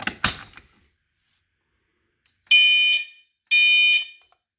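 Fire alarm horn sounding during a panel test of a fire alarm system: after a brief clatter and a short silence, two loud, piercing electronic tones blare in separate bursts about a second apart, close by.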